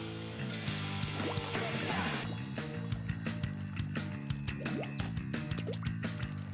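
Inkling swimming through ink in Splatoon, a busy run of wet squishy slosh and drip sounds with bubbly pitch sweeps, layered over steady game music.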